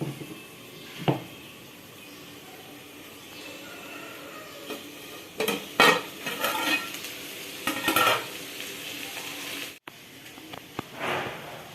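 Sesame, coconut and spice powder stirred and dry-fried in a pan, a steady soft sizzle broken by scraping clinks of a spoon against metal, several louder bursts of stirring near the middle and end, no voices.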